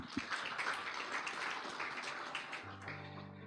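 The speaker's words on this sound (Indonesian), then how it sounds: "Boleh kasih tepuk tangan buat Tuhan kita." A church congregation applauding during a service, a soft steady wash of many hands clapping heard from a distance at low volume, with a sustained musical tone entering near the end.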